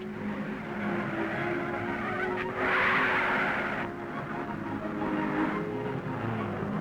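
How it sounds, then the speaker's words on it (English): Rally car from the 1955 Monte Carlo Rally working down steep downhill hairpins by the station, engine note drifting in and swelling briefly at mid-distance amid steady outdoor background noise. "Here's Walwork approaching the casino with no time to play. The downhill hairpins by the station"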